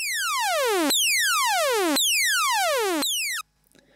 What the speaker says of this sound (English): you can hear math again is going to the coarse tune of the oscillator